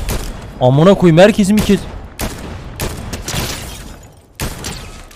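Fortnite video game gunfire: several sharp, fairly loud shots spaced out across a few seconds, with someone shouting and talking over the opening shots.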